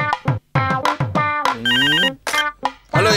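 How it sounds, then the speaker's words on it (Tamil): A telephone rings in a Tamil TV comedy serial scene, a loud, melodic electronic ringtone of repeated chirping notes with brief gaps between bursts. "ரிசீவர் கையிலேயே இருக்கு, மறுபடி போன் அடிக்குது"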